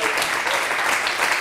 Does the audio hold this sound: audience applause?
yes